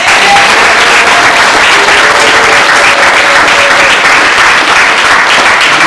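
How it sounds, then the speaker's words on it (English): Loud, dense applause from an audience at a ConTextos publication event, sustained and even throughout with no pauses or speech on top. "Let's give another round of applause for our art."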